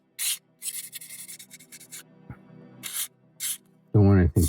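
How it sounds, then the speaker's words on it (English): A slate pendant carved as a Thor's hammer being hand sanded with well-used 220 grit sandpaper, making loud, close rasping strokes in short bursts with pauses, and someone speaks at the end. "We'll say this much about sanding and finishing slate"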